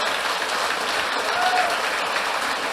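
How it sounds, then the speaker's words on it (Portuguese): Church congregation at a Sunday service applauding, a dense continuous wash of clapping from a large crowd that holds steady throughout. "Você vai aplaudir e glorificar o nome de Jesus."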